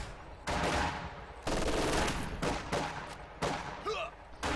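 Infantry gunfire in a strategy video game battle, dense overlapping bursts of rifle and machine-gun fire in loud waves with brief gaps, sounding like a sustained firefight.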